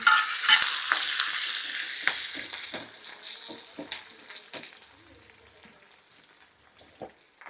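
Dried red chilies, curry leaves and crushed garlic crackle in hot oil, starting with a loud burst of sizzling and stirring that gradually settles into softer frying with occasional spoon scrapes.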